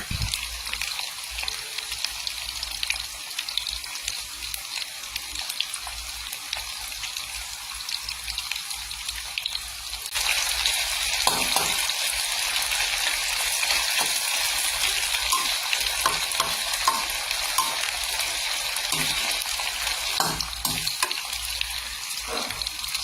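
Pork belly frying in its own rendered fat, a steady broadband sizzle throughout with occasional crackles and stirring clatter, growing somewhat louder partway through; no talking.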